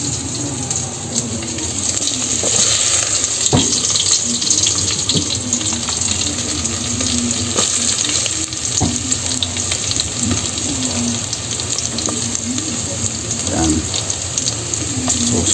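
Garlic sizzling in hot oil in a pan, a steady frying hiss throughout with faint stirring clicks and scrapes, fairly close and with no talk over it.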